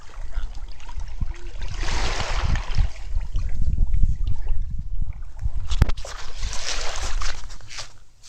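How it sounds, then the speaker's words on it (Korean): A steady, hollow whoosh like ocean surf, swelling twice and then easing off near the end. The wash is close and fairly loud, with no talking over it. "바닷소리야."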